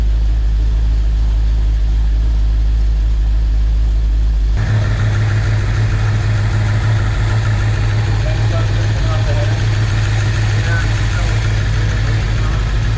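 A 5.9L Magnum V8 with a Comp Cams camshaft runs close by, first a deep low idle, then a fuller, rougher rumble after a sudden step up, holding steady while people talk over it.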